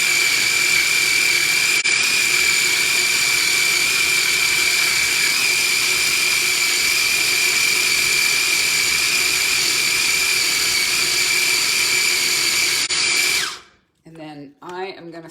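Garbanzo beans whir in a kitchen grinder, a loud, steady high-pitched motor drone that runs for about thirteen seconds, then cuts off abruptly, leaving someone speaking briefly afterward.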